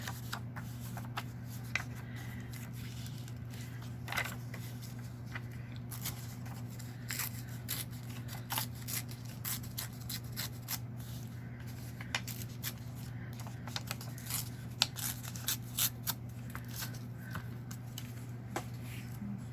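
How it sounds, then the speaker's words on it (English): Scissors snip through book pages in a quiet room, with a scatter of small sharp cuts and paper rustles over a steady low hum, and no talk. "I don't want to cut the little birdie off."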